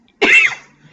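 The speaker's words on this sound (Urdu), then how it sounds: "سوری میری کھانسی ہے." A single sharp cough bursts out close to the microphone and fades within about half a second, heard alone during a women's online religious lecture.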